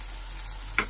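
Chopped onions fry in a pan with a steady, soft sizzling hiss, heard close and fairly quiet, with a faint clink of a utensil near the end and no voices.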